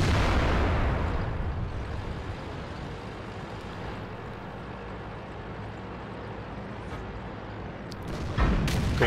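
A tank cannon in World of Tanks fires with a heavy, booming blast at the start that decays into a low rumbling ambience, then another sharp shot bursts out near the end.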